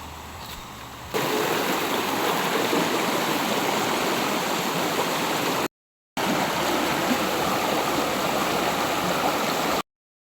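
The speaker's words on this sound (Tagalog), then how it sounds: "Papunta na po akong sapa." A creek in the countryside near Infanta flows steadily and close by as a continuous broadband rush of water, with a brief quieter lead-in and a short gap midway.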